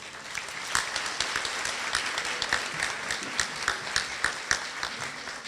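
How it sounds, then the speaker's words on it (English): An auditorium crowd at a school rally gives a sustained round of applause, a dense, even clapping with sharper individual claps popping out, heard alone without speech. "How about a round of applause for the first wave?"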